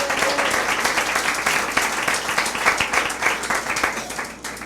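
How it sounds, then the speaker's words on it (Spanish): A church congregation claps for Jesus in sustained, lively applause that carries on evenly and drops off in the last moment. "De un aplauso al Señor Jesús."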